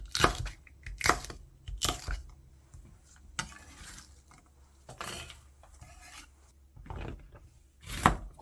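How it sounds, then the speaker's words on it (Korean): Sharp knife chops on a cutting board as chili peppers are sliced, in irregular bursts, several quick strikes, close and fairly loud, with quiet gaps between them. "송송송 썰어서 준비해주고"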